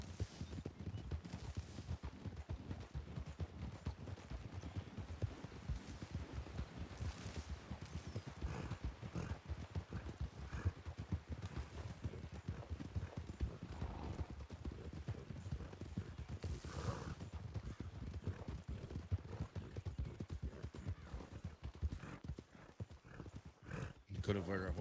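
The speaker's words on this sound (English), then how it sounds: "We could have heard our horses and turned back." Hooves clatter continuously as horses move quickly in a ranch roleplay video game, with occasional neighs and some gunfire mixed in, while people talk over the sound at times.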